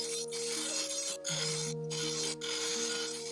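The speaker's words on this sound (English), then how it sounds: "take these wheels and clean up these edges here. because it's awfully rough." Abrasive wheels grind the rough edges of a handmade naginata blade, giving a steady close rasping hiss over a constant motor whine, with a few brief dips where the wheel lifts off the steel.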